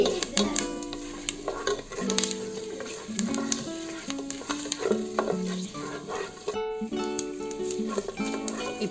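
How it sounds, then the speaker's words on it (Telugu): Curry leaves sizzle in a pan with mustard seeds and dried chillies while being stirred, a busy crackling fry with repeated scraping strokes and utensil knocks, close and fairly loud, with no voices. "కరివేపాకు ఇవి వేసుకోవాలి ఇవి కొద్దిగా వేయించుకోవాలి"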